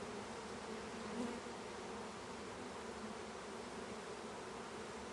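A package of honey bees shipped from Georgia fills a steady, dense buzz while being installed into a hive in Massachusetts. The hum is continuous and even throughout, with no voices.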